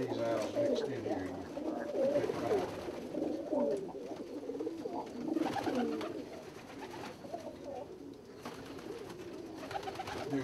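Archangel and gold and copper blackwing pigeons, with some Chinese owls, coo together in a crowded loft, a steady layered burble of close and distant calls, with a voice talking over them.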